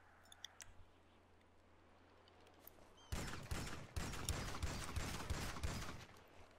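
Gunfire in Grand Theft Auto V, arriving as a dense rapid burst of shots after a few quiet seconds of faint clicks, sharp and fairly close.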